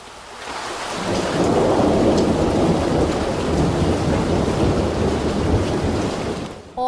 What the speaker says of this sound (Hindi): शादोंग इलाका जहां पर बारिश की वजह से हर तरफ पानी ही पानी है।